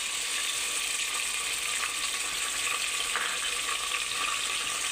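Ginger garlic paste sizzles in lightly heated oil with curry leaves, a steady, even frying hiss with faint crackles, close and continuous with no talk.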